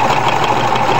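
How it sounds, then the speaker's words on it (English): Sewing machine stitching stabilizer into sofa upholstery, a loud, close, steady mechanical whir that runs without pause through the short clip. "I'll just go ahead and start stitching."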